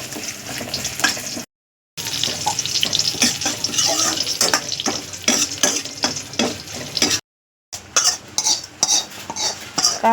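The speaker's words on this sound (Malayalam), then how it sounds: "കറി നമുക്ക് താളിച്ചെടുക്കാം" Mustard seeds, cumin, fenugreek, shallots and curry leaves sizzle and pop in hot oil while a spoon stirs and scrapes the pan, with loud close frying broken by two brief silent gaps.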